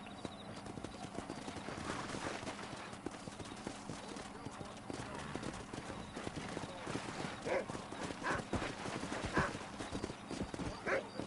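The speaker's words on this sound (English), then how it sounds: "Let's see if we can't wrangle some horses" Horse hooves clip-clopping with occasional whinnies in the Western video game Red Dead Redemption, quiet and continuous under ambient game sound, with voices talking over it.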